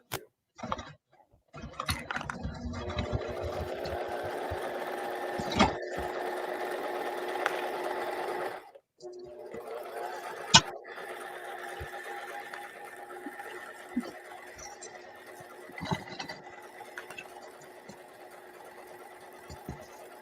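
A sewing machine stitches vinyl for a curved case in close, steady mechanical bursts, pausing briefly between runs, with small clicks and handling noises around the stitching.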